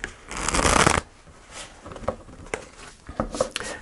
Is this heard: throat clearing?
no